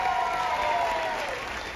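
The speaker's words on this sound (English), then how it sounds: "applause." Steady applause from a crowd at a cruise ship awards event aboard Carnival Glory, a dense, even patter of many hands clapping throughout.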